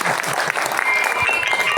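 An audience claps steadily and loudly throughout the moment at a ceremony at Pura Agung Medang Kemulan, with dense overlapping hand claps close by.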